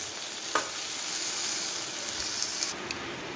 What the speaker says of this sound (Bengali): দিয়ে দিলাম নুন একটুখানি, এটা ভাজা ভাজা হোক